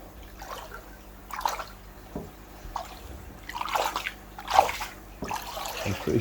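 Pond water is stirred and sloshed by hand to break up surface foam in a winter garden pond, giving repeated close splashes and swishes in irregular bursts that grow louder toward the end.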